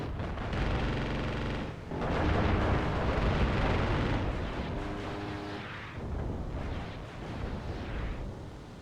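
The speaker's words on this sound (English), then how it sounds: "some more of our artillery coming in. Yeah, we're just going to pummel them while we can." Artillery fire in the Armored Brigade 2 war game, a series of heavy explosive booms and rumbling blasts rolling over each other, loud and dense with brief lulls, no talk.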